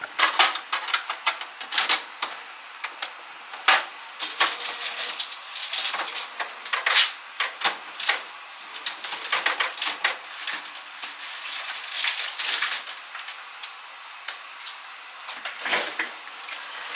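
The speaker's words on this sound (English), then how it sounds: "Got the first one printed." Home printer running a job of custom chip bags on koala paper, giving off a busy series of clicks, clacks and mechanical rattles in uneven bursts, close and moderately loud.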